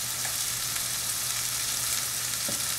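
Ackee and saltfish seasonings with pimento sizzle in a hot frying pan, a steady, close crackling hiss throughout with faint scraping, no talking.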